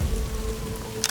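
Heavy rain storm: a steady, dense wash of rain close by, with a brief sharper splash near the end, no voices.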